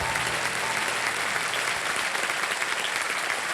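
Dense, steady studio audience applause on a televised quiz show set, loud and continuous with no voices over it.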